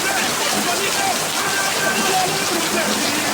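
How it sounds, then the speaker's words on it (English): Steady rain falls in a dense, unbroken wash, loud and close throughout, with no gaps. "I will just go and enjoy the rain."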